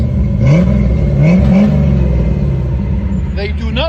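A stock 1990 Chevy Corvette C4 with the 5.7L V8 idles with a deep, steady rumble, giving a few brief rising revs, heard close with voices over it.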